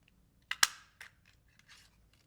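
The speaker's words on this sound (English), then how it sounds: "to cut out the little circles for the front fasteners, I'm going to use a 3/4 inch hole punch" A 3/4 inch hole punch snaps through paper, cutting out small circles: two sharp close clicks in quick succession, then a softer click and faint rustling, with no voices.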